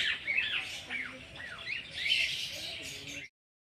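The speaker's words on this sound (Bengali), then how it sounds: "ককাটেল রয়েছে ভাই" Cockatiels and colourful parakeets at a mini zoo give a series of shrill, rising squawks and chirps, several overlapping calls close by over a few seconds, with no talking.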